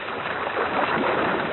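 Broadband rushing water noise, band-limited and steady, a continuous wash of surf with no distinct breaks, from a recording of waves crashing included on the Voyager Golden Record.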